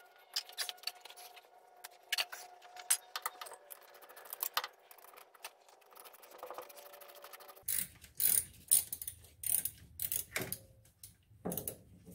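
A ratchet works the lower alternator bolt loose on a Datsun 260Z, giving quiet, rapid clicking strokes at first, then louder, more clattery bursts of ratcheting toward the end.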